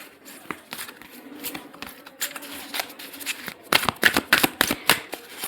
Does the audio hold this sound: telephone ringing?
no